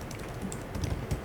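Quiet clicking of fingers typing on a computer keyboard during a committee meeting, a short irregular patter of keystrokes heard alone and faint.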